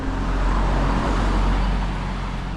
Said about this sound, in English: Here you got a Porsche going by.